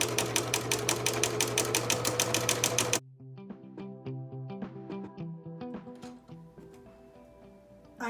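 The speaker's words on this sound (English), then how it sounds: "I am stitching one of the side seams." A sewing machine stitches a side seam on a quilt, running in a fast, steady, even rattle for about three seconds, then stopping, followed by quieter clicks and small taps from the machine.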